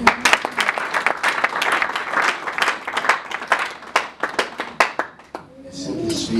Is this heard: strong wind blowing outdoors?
no